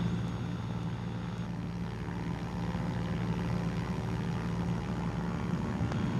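Steady, droning propeller engine of a Cessna 210 light aircraft in flight over hills in Malawi, a continuous loud cabin hum with low throbbing tones and no voices.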